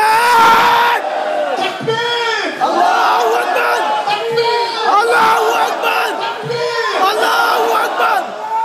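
A large crowd at a rally roars a chant of Allahu Akbar in answer to a Takbir call, several loud rhythmic waves of massed voices repeating across the whole stretch.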